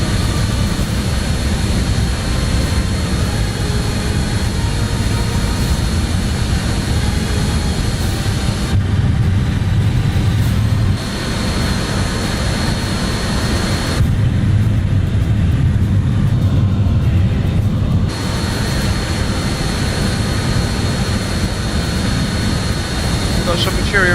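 A steady, loud roar from the four jet engines of an Avro RJ in Microsoft Flight Simulator fills the whole stretch with a constant broad hum, while a voice talks over it intermittently.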